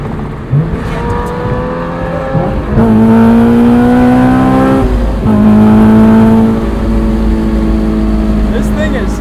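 A supercharged 2003 Honda S2000 engine pulls hard in fourth gear, loud and close from inside the car, its pitch sweeping upward through a long rise, dropping at a shift, then climbing again, with voices in the cabin at times.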